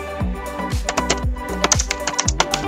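Quick, close clacky keystrokes on a computer keyboard while HTML code is typed, an irregular rapid patter of crisp clicks with no talking.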